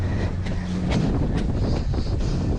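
Wind blows over open water at a paddling event, a loud, constant rumbling roar buffeting the microphone, with no talk.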